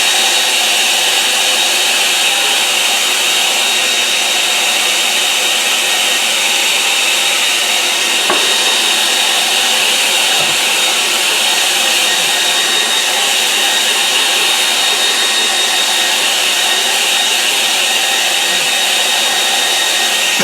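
A hair dryer runs at a constant loud whir, drying a gouache painting. The airflow is close and steady throughout, with a slight shift in tone partway through, and no talk.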